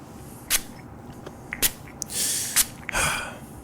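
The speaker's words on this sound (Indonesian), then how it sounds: "Saya semprot parfum lagi biar gak bau." Perfume spritzed from a spray bottle in a quiet indoor roleplay setting, several short hissing bursts with pauses between them, a couple of them longer and close to the ear.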